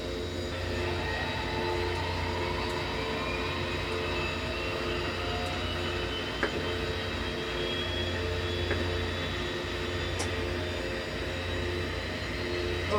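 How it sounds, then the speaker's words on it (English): A train rumbles past beside a running DHC-6 Twin Otter in X-Plane 11, a steady, faint, continuous drone with a whine on top and a few faint clicks, without talk. "There's a nice train going past as well."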